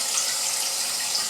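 Tap water runs in a steady, even rush for a parakeet's bath, a close continuous hiss with no break.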